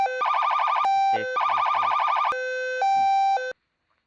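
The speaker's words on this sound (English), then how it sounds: "you've got whale, rumbler, yelp, yelp, rumbler, piercer, high-low, Q siren" Customizable police siren tones from the video game Flashing Lights switch between a fast warbling yelp and steady held tones, loud and synthetic, with brief gaps between patterns before cutting off to silence.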